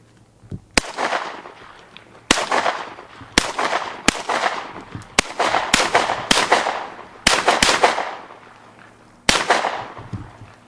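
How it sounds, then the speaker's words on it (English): Semi-automatic gunfire fired with quick trigger pulls during a day with an explosives expert, about eight sharp loud shots in an uneven rhythm, each followed by a long ringing echo that decays before the next. "Pull the trigger kind of quick though, because if you go real slow, it will slip into full auto when you shoot."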